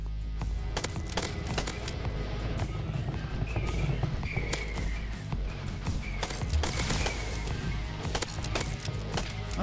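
Pistol fire from an electric weapon in a first-person shooter roguelite, dense rapid bursts of shots crackling over constant game noise and music, loud and close.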